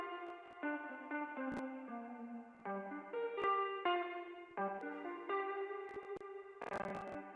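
An ambient track played with a high-quality reverb effect: a series of sustained synth chords changing every second or so, each blooming with a lingering tail, plus a few sharp percussive clicks, clean and moderately quiet.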